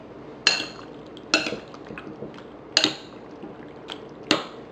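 Soy sauce poured into a pork marinade with lemon juice, then stirred in a bowl, giving a handful of sharp clinks of utensil against dish spread over a soft liquid background.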